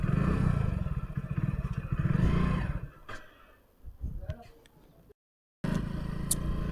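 A motorcycle heading out for servicing, its engine running steadily before pulling away with clattering and shifting noise, fairly close and loud, then a short gap before the engine resumes.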